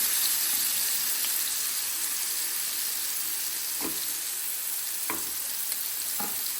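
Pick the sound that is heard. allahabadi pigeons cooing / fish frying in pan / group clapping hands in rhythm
fish frying in pan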